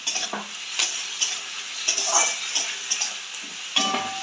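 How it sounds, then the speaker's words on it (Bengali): Chopped tomatoes sizzle in a hot pan while a spoon scrapes and stirs in a regular rhythm, close and clear, with a soft hiss under the strokes. "এবার আমি টমেটো দিয়ে দেবো, কুচনো টমেটো।"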